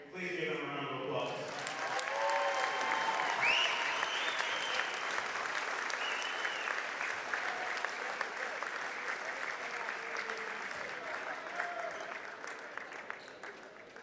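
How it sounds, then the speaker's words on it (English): A crowd at a college men's basketball game, Elmhurst College vs North Central College, breaks into sustained applause, loud and steady for several seconds before gradually thinning out. "Please give them a round of applause."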